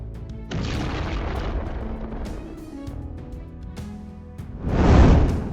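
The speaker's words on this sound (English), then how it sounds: "The Ukrainian National Guard's 5th Special Forces Regiment has been firing Javelins at night." A Javelin anti-tank missile launches at night in combat, with a loud booming whoosh at the start, a lingering rumble, then a second heavy blast near the end.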